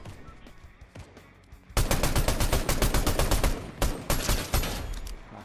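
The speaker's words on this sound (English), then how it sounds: "A lot of gunfire coming from over here." Rapid gunfire in the video game Fortnite bursts in suddenly and continues as a dense volley of sharp, loud shots for several seconds, with a couple of brief pauses between bursts.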